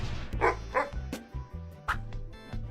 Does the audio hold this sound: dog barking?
yes